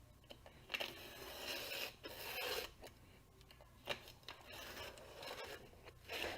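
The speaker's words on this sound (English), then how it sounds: "And I'm cutting off about 1/4 of an inch." Scissors cut through the flap of a large paper bag in quiet, close snips and crinkling rustles, a series of short cuts with brief pauses and no speech.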